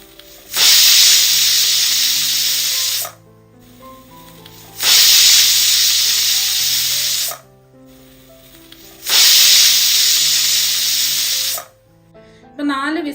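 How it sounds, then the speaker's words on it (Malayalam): A pressure cooker on a medium flame, cooking idiyappam, lets out three long, loud bursts of hissing steam, each about two and a half seconds, separated by short quiet gaps. "കുക്കർ മൂടി വെച്ച് നമുക്ക് മീഡിയം ഫ്ലെയിമിലിട്ടിട്ട് ഒരു 4 വിസിൽ കേൾക്കുന്നവരെ ഒന്ന് വെയിറ്റ് ചെയ്യാം."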